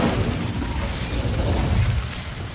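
An Incendio fire spell cast in Hogwarts Legacy erupts as a dense, roaring burst of flame, loud and sustained for a couple of seconds before easing off slightly at the end.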